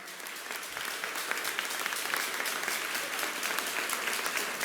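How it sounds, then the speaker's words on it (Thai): Sustained, dense applause from a large crowd at a Thai political rally, steady and loud throughout with no break or talking over it. "ขอเสียง ปรบ มือดัง ๆ ให้กับคอปทครับ"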